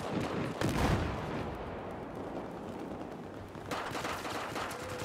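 Gunfire and explosions in Battlefield 4, a heavy rumbling burst at the start followed by continuous distant battle noise and a fresh surge of shots near the end, with no talking.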